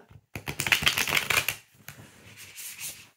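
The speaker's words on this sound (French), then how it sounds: "on va essayer de le mélanger maintenant. Donc, hop, on prend les cartes" A brand-new, stiff Black Violet Tarot deck is shuffled up close, giving a dense riffling flutter of cards followed by a softer second pass.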